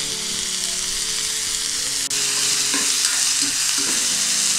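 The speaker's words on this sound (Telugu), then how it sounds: "కొంచెం దూరగా అయ్యే వరకు వేయించుకుందాం" Food fries in a hot pan with a loud, continuous sizzle, broken by a few soft scraping stirs. The sound is close and steady.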